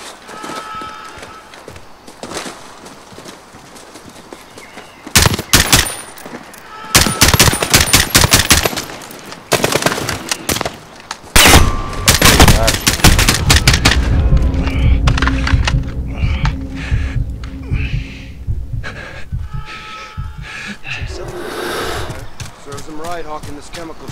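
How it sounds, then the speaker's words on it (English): Gunfire from several guns rattles through a Call of Duty Modern Warfare campaign scene, loud bursts and sharp shots clustered in the middle, mixed with game movement, footsteps and background effects. "Multiple guns on foot."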